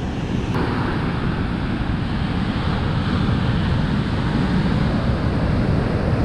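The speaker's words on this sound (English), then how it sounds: "the waves are going out and meeting the waves coming in" Steady, loud roar of surf rolling onto a beach at Blowing Rocks, waves going out meeting waves coming in, continuous and broadband, with wind buffeting the microphone throughout.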